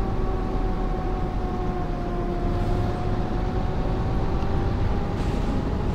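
Cotterell bus in OMSI 2 running steadily, its engine a constant low hum with a thin tonal whine on top, close and unbroken for several seconds without any speech.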